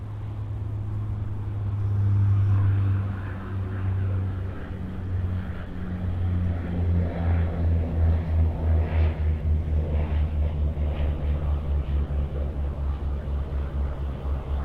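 A Rex Saab 340 turboprop from Merimbula arrives on runway 34 right at Sydney Airport, a steady low propeller drone that swells and settles into a pulsing rumble at a distance, with no talk.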